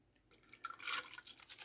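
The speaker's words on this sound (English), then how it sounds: "just pour my coffee in there" Coffee pours from a cup into a drink, a short splashing trickle that starts softly, swells to a bright gush, then tapers into drips.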